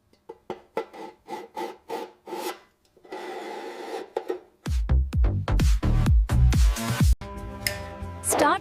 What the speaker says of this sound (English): start by sanding them down